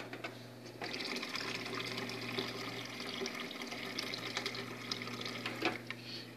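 A tap gushes water in a steady, moderately soft stream after a brief quiet start, with a constant low hum underneath and occasional splashing spikes.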